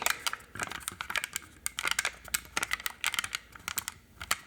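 Small plastic bottle seals are clicked and fiddled with up close in a quiet room, producing rapid, irregular light clicks and taps in quick clusters.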